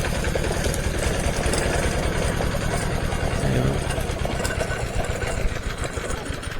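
An engine-driven sugarcane crushing machine runs steadily up close in a Bangladeshi village, its loud, continuous mechanical chugging and knocking drone filling the whole stretch without pause.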